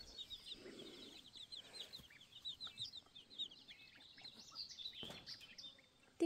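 Chickens cluck and chirp on a goat farm, soft repeated calls coming from several birds at a middle distance over a quiet outdoor background.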